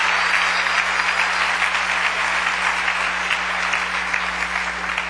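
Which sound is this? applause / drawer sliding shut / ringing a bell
applause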